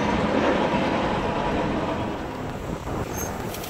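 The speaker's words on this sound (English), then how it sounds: "Got a train coming, check it out." Train rolling past close by, a loud continuous rumble and rattle of rail cars that fades slightly toward the end.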